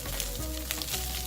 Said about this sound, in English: I am therefore frying this rice at a heat that my pan is comfortable with.